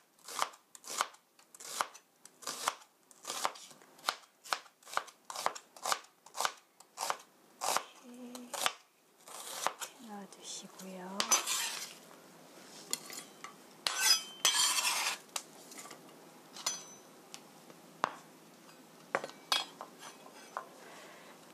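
A knife thinly slices a medium onion on a cutting board, crisp rhythmic chops close by that slow into scattered taps and scraping, with brief quiet speech in the middle.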